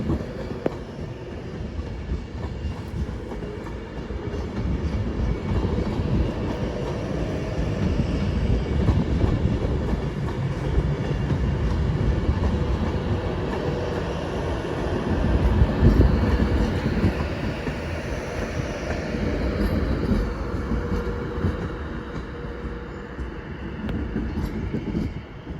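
Trains rumbling through Crewe on the West Coast Main Line, a steady heavy roll of wheels and carriages that swells around the middle and holds loud throughout, with faint clickety-clack and no talk.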